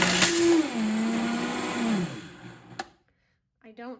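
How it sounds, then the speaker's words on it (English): A Vitamix blender grinds spelt grain into flour with a loud, close motor whir that shifts pitch as it runs, then shuts off abruptly, followed by a brief voice. "I don't have a grain mill, so I just use my Vitamix"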